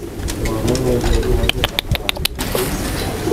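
A grey manggis songbird calls in a quick burst of sharp, bright notes, repeating several times close by over steady background noise and faint talk.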